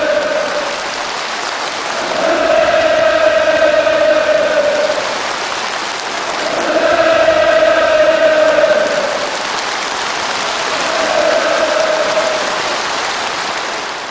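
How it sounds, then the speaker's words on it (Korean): Enthusiastic applause and cheering from delegates closing the 8th Congress of the Workers' Party, a massive continuous roar of clapping that swells and recedes in three waves, with rhythmic chanted shouts rising above it. "단체 참가자들은 열광적인 환호와 박수로서 강공적인 경륜에 대한 전적인 지지와 찬동을 표시했습니다"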